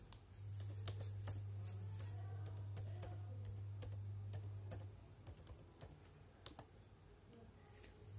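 Fingers type text on a computer keyboard, a quiet, close patter of irregular key clicks running the whole time over a steady low hum.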